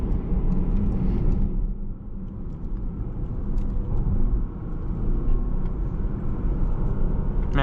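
A 2022 Porsche Panamera Platinum Edition accelerates, heard from inside the cabin as a steady low engine and road rumble that dips briefly then continues, fairly loud and without talk.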